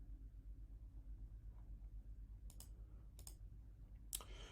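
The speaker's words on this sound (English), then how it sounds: "So we're going to click Details right here." A quiet computer mouse click or two lands over a low, steady room hum, each one short and faint with no talking.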